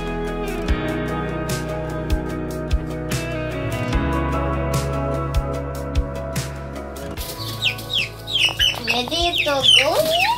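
Chickens cluck and call in a coop, with repeated close clucks over a droning background and a burst of busier, higher calls toward the end.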